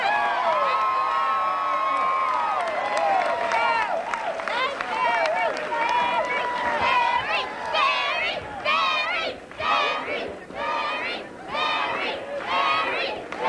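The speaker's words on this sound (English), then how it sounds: "excited crowd at the Mary Landrieu campaign headquarters" Excited crowd at an election-night campaign headquarters for Mary Landrieu, loud cheering and shouting with rhythmic chanting bursts building in the second half, voices dense and close throughout.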